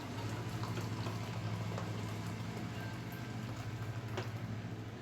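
Boiling water poured from a kettle over rice for Nigerian smoky jollof, a steady close liquid rush and bubbling hiss running continuously without pause.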